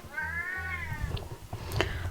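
A pet cat lets out a long drawn-out meow, close and clear, followed by a few shorter faint sounds over steady background music.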